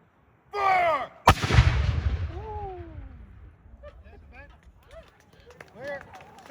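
A ceremonial cannon salute for the US Army's birthday at the Franklin Delano Roosevelt House: a shouted command, then one loud booming shot that rolls and echoes away as people talk and voices carry afterward.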